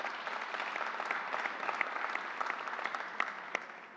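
An audience at a governor's announcement at a community college breaks into steady applause, a sustained patter of many hands clapping at moderate distance, tapering slightly near the end.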